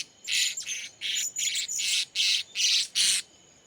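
Yellow-beaked bird, likely a serindit-type parrot, calls in a series of about seven loud, harsh squawks in quick succession, close to the microphone, with no talking.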